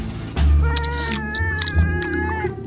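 A cat lets out a long, drawn-out, whiny meow close to the microphone, wavering in pitch and sustained for over two seconds.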